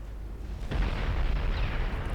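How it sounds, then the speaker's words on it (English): Torpedo hits explode against warships in the 1925 Norwegian naval campaign of Ultimate Admiral Dreadnoughts, with a sudden heavy boom and then a sustained roar of blasts and rumble, with no one talking. "Oh, lots of torpedo hits"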